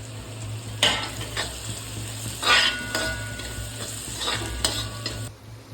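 Onions sautéing in a pan with green chili and ginger for chicken biryani, producing a constant close sizzle punctuated by several louder spatula stirs and scrapes over a faint steady hum.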